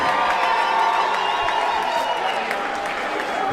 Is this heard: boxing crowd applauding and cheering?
yes